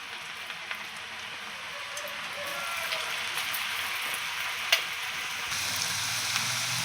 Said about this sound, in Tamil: இப்போ பாருங்களேன், பொரிக்கிறோம்.